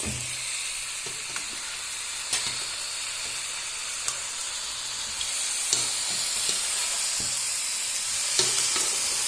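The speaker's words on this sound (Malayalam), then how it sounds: "ഈ നേരത്ത് നമുക്ക് കഴുകി ക്ലീനാക്കി വെച്ച ചിക്കൻ അതിലേക്ക് ഇടാം" Washed chicken pieces for a home-style chicken curry fry in a pan with a steady, close hiss and sizzle, broken by occasional clicks and scrapes from stirring.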